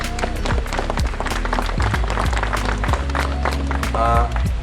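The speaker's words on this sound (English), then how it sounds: "let's give him a round of applause" Lively clapping from a wedding crowd mixed with cheering voices and background music, sustained throughout.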